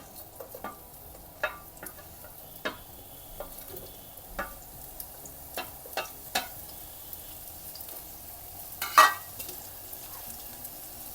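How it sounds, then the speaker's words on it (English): Sliced onions and green chillies frying in a pan for an Anglo-Indian meatball stew, a soft steady sizzle under scattered sharp ticks and scrapes of stirring, with one louder clatter near the end and no talk. "And then I'm going to add in a sliced onions."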